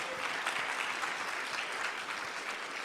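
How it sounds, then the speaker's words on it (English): An audience at a TEDx Youth event gives the organizers a steady round of applause, dense clapping throughout with no speech over it. "let's give our organizers one more big round of applause"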